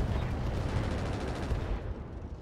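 Heavy mech weapons fire continuously in the RogueTech video game, a dense, loud roar of overlapping shots and booms that runs steadily through the whole moment with no talk over it.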